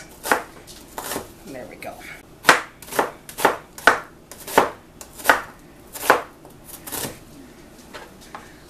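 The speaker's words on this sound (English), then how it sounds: "So what I do is I cut them in half like that so they lay flat and I can cut them up in nice little half slices." A knife slices halved onions on a cutting board in about a dozen crisp, evenly spaced chops, loud and close; a brief spoken phrase comes near the end.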